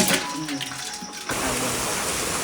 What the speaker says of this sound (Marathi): चांगले स्वच्छ धुवून घ्या अजून एकदा पाण्यातले दोन तीन धुवा